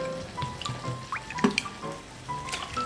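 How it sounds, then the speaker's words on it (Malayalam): Water poured into simmering butter chicken gravy in a home kitchen, heard as brief, fairly faint trickling and dripping with no voices. "ആവശ്യത്തിന് വെള്ളവും ചേർക്കാം"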